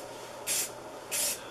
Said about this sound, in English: I'm using a spray lacquer